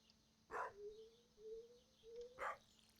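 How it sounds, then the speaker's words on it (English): Two sharp dog barks about two seconds apart in the Stardew Valley video game, somewhat distant, with a faint steady tone and quiet background between them. "Stop barking"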